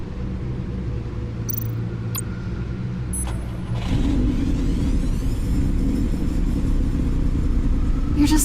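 A sports car of over 600 horsepower in Batman: The Enemy Within revs its engine as a steady low rumble, which swells louder and fuller about halfway through and holds there.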